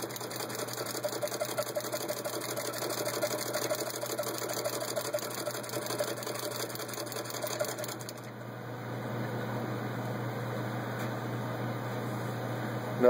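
A vintage Singer pinking attachment on an antique Model 66 hand-crank sewing machine cuts vinyl upholstery, giving a steady, close mechanical clatter and whir that runs continuously and shifts slightly in tone partway through.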